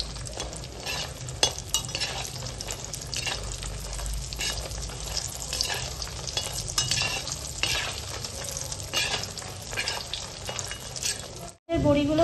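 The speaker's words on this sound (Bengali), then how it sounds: "বড়িগুলোকে আমরা হালকা করে ভেজে নিচ্ছি।" Bori lentil dumplings frying in oil in a pan, a loud, steady close sizzle with occasional stirring scrapes and utensil clinks, cutting out briefly near the end.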